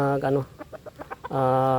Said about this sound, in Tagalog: maliksi naman itong mga manok guys